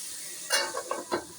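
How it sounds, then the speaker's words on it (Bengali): Cauliflower frying with turmeric in a covered pan, giving a steady hiss broken by several sharp sizzling crackles and pops close up, with no voices. "দেখি ফুলকপিটা ভাজা হলো কি,"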